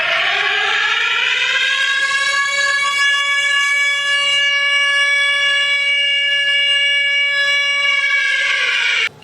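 Air raid siren in Ukraine, a loud, steady wail that climbs in pitch at the start, holds for several seconds and sinks away at the end, sounding alone with no voices.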